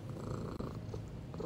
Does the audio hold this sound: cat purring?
yes